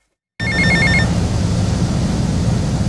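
In GTA Vice City a telephone rings in a short burst of rapid electronic trills that starts abruptly and stops after about a second, and a steady low engine rumble carries on underneath.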